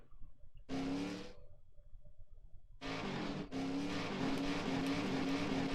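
Loud race car engines in the video game NASCAR 2001 roar in short bursts, then a sustained high-revving drone, close and intense.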